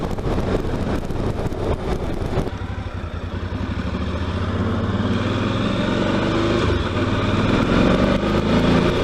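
A Suzuki V-Strom motorcycle rides along a gravel road, its mid-pitched engine droning steadily and loud throughout, with a brief rev near the start and continuous road and wind rumble underneath.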